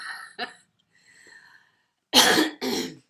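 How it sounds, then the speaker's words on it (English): A few sharp coughs: a short one first, then two loud, harsh bursts close together near the end, with quiet breathing noise between. "I still have a bit of a cough."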